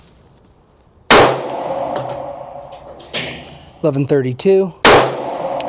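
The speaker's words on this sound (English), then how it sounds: "we're going to do a 5-shot group with the Garmin with this 124 grain AAC ammunition" Two loud, sharp pistol shots, several seconds apart, come from a Glock 43x fitted with a Radian Ramjet Afterburner and firing 124 grain AAC ammunition. Someone speaks briefly between the shots.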